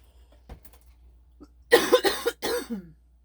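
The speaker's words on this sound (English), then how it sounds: "I'm so sorry about my cough." Several harsh coughs in quick succession, close and loud, after a few faint breaths and small mouth sounds in a quiet room.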